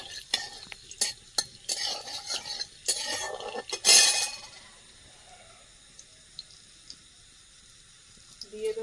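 Whole garam masala, cloves and cardamom drop into hot oil in a pan on a clay stove, with a run of sharp clinks and scrapes, a brief loud sizzling burst, then quieter faint crackling.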